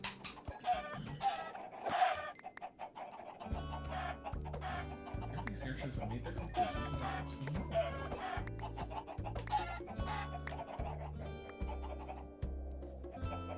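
Chickens cluck repeatedly in Minecraft, soft game clucks scattered over a background music loop while a person talks over them.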